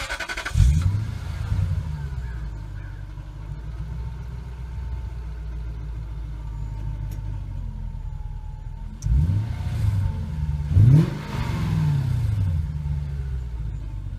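A Lexus GS400 engine cranks and catches near the start, then idles as a steady low rumble, with a couple of brief revs or shifts later on, close and alone.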